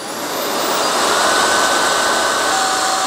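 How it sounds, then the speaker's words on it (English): A compact handheld electric air duster, a rechargeable power jet fan, blows a loud, steady high-pitched rushing whoosh that swells in the first half second and then holds constant at close range, with no voices. "the compact handheld electric air duster slash power jet fan. Now this thing actually is really powerful."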